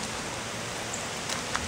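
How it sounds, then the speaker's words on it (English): Steady rain pouring down as a storm with a shelf cloud approaches, a dense broadband hiss with a few faint drips standing out near the end. "Oh, here comes the rain."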